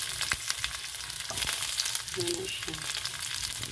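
Garlic and onion frying in oil: a dense, continuous sizzle with scattered stirring clicks, close and fairly loud, as a voice speaks briefly partway through.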